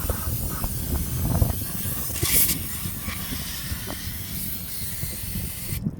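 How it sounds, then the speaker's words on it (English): Brake cleaner sprays from an aerosol can onto the dusty brake parts of a 2019 Ford Escape, a close, steady hiss lasting several seconds that ends abruptly, with faint clanks behind it. "I use a little bit of brake cleaner to get off the excess dust"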